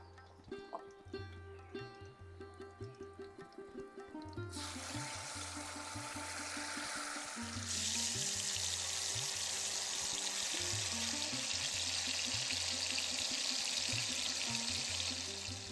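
Hilsa fish dropped into hot oil seasoned with black cumin and green chillies, a loud continuous sizzle that flares up and stays steady over a background of faint music.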